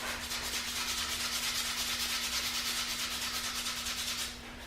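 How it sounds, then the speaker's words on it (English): Steady, continuous abrasive rasping of a wooden stick being hand sanded, close and unbroken for several seconds before easing off at the end, with no talking. "I actually sand like this for quite a bit"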